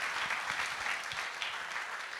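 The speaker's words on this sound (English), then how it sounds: "Everyone, please, a big round of applause for Jessica DeSabatino." A livestreamed event audience applauds a speaker in a steady, even wash of clapping. It sounds faint and distant, with no voices heard.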